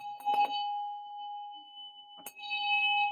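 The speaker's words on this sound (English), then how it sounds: "Let me ring the bell for me." A small hand bell rings twice, each strike a clear, bright ding that sustains and slowly fades, close and fairly loud in a quiet room.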